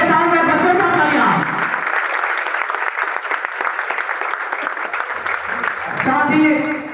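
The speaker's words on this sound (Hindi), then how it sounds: "चाहूंगा एक बार जोरदार तालियां" An audience at a Janshakti Group speech event in Kanpur bursts into sustained, loud applause with dense clapping that continues for several seconds, while a speaker's voice carries over the start and the end.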